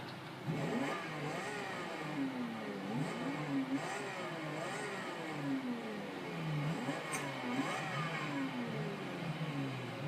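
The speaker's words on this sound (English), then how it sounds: "Sounds of Forza Horizon 2 July car pack edition. We'll start off with the third car, the Ferrari 57M Maranello" A Ferrari 575M Maranello with its front-mounted V12 in Forza Horizon 2 revs hard through repeated gear changes, each rising engine whine dropping after a shift, loud and continuous with no talking.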